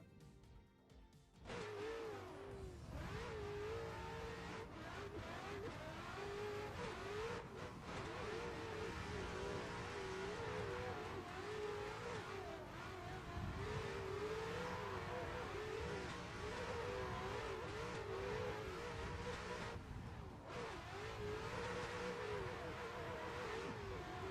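Ford Mustang engine in a racing video game, a continuous revving drone that climbs and falls through gear changes for over twenty seconds, loud and close, with someone talking faintly beneath it.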